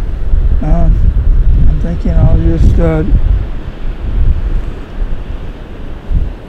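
A cold ocean wind blows across a beach near North Head Lighthouse, rumbling steadily against the microphone with the surf underneath. Someone speaks briefly at the start.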